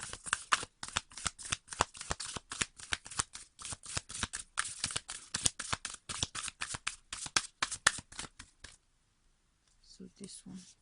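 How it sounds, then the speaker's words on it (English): Thick decks of oracle cards are riffled and shuffled close by in a rapid, rhythmic run of crisp flapping clicks that stops abruptly, then a voice briefly speaks. "Thick decks, tough to shuffle."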